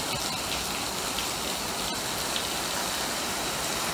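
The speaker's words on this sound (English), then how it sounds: "This shit just started raining like 10 minutes ago" Heavy rain pours steadily during Hurricane Ida in Chester County, a dense, constant hiss of drops on surfaces close by, with no voices.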